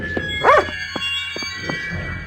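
A dog in Nosferatu: The Wrath of Malachi gives one short bark followed by a few fainter yips and clicks against a steady game-music hum.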